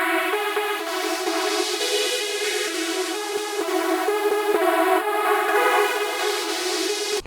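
Synth lead from Zebra's HS Dustman patch playing a simple repeating electronic pattern: a bright, buzzy, sustained tone with faint rhythmic clicks, steady and alone, cutting off abruptly at the end.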